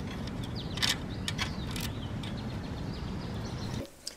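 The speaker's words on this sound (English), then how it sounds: "I'm screwing the two halves together." Two halves of a rooftop off-air TV antenna being screwed together, giving continuous close scraping and ratcheting metal clicks, then a sudden stop near the end with a final tap, without talk.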